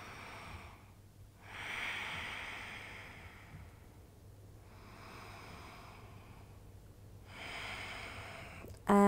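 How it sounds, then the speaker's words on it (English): Slow, deep breaths during a yoga stretch come and go in about three soft, airy cycles, faint and close, with a sharp click at the very end. "Deep breaths."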